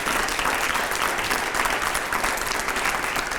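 Steady, dense applause from a studio audience at a Hindi television debate show, loud and continuous for the whole stretch with no voices over it.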